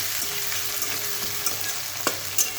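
Onions fry in oil in a pan. A close, continuous sizzle crackles throughout, with a few light clicks as they are stirred.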